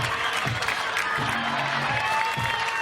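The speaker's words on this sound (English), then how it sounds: "She gets the applause." A crowd applauds at a college softball super regional game between Texas and Oklahoma State as a pitcher leaves the game, a steady wash of clapping from the stands with an announcer talking over it.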